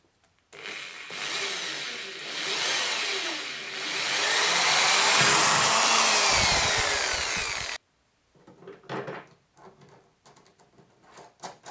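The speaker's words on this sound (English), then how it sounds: "here I will drill few holes for bolts." A loud power drill whines steadily for several seconds, drilling bolt holes through material, then cuts off, followed by scattered scraping and handling noises.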